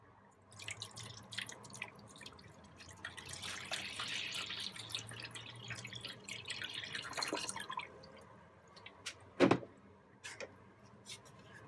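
Water splashes and trickles softly as a paper sheet is soaked before stretching on a wooden panel, with paper rustling and a few drips, ending in a sharper single splash; quiet and close, no voices.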